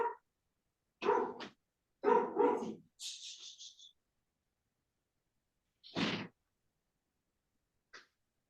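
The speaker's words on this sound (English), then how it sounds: "I'm just going to quieten my dog." Several sharp barks from a pet dog indoors, in short bursts spaced over a few seconds with a brief whimpering note between, fairly close and loud, then a final faint yip.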